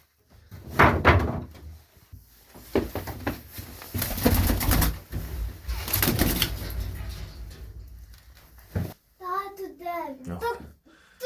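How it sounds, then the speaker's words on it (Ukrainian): Pigeons coo softly near the end after a stretch of clattering, door-like bangs and scattered talking at an animal market; the cooing comes in a short, close, repeated burst. "Це голуб. А вон голубочка."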